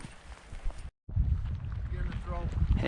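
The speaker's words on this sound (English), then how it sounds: "Kind of another blustery day." Gusty afternoon wind buffets the microphone at Middle Reeder Lake in the Uinta mountains, a loud roaring rumble that cuts out briefly and returns, with a person talking under it.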